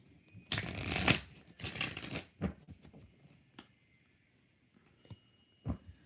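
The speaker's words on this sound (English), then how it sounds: "What is next in love for Angie? 4 shuffles." Tarot cards shuffled by hand in a quiet room, a couple of quick riffling bursts followed by a few sparse, soft card taps and slides.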